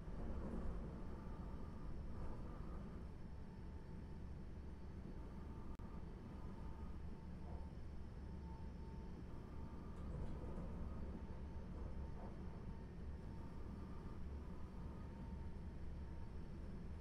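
An ICE high-speed train running through snow in the game Train Simulator Classics, giving a steady, continuous rumble and rolling drone with faint rail clatter throughout, with no voices.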